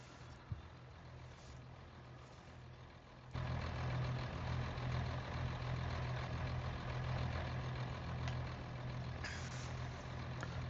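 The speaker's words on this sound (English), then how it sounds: "There goes my new truck, right?" A truck engine rumbles steadily and grows louder partway through, a low heavy drone from a moderate distance with faint background noise and no speech.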